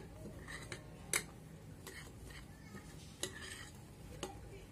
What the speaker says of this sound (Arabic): نقلب بقى الكاكاو مع باقي المكونات برضو